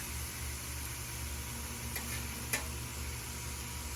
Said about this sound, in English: we're just gonna let this kind of simmer, saute, whatever you want to call it, cook